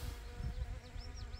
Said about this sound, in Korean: 벌들이 벌써 나와서 활동을 하네요.